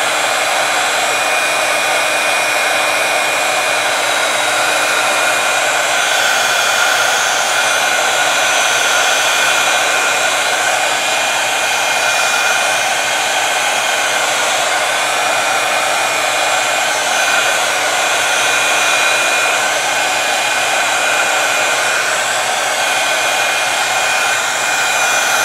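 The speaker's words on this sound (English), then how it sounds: "especially with the heat tool" Heat tool blowing hot air over a candle, a loud, constant, close-up whooshing roar with a steady motor whine that continues without a break.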